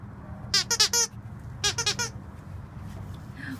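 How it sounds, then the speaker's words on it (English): Squeaky dog toy squeaked in two quick bursts of several high, tonal squeaks each, close by in a quiet animal shelter room with low background hum. "Do you guys like the squeaky toy?"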